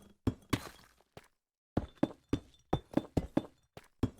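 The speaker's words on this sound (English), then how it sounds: "you're going to fill it in with the blocks of your choice" Minecraft Java Edition blocks are placed one after another while an iron farm is built, a close run of short thuds and glassy clinks in an uneven rhythm, with a short silent gap and no talk.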